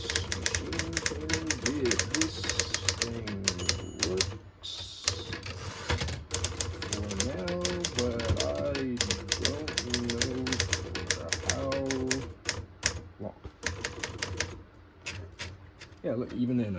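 Rapid irregular clacking of keys and strikes on an Everest manual typewriter, loud and close, with someone talking over much of the typing.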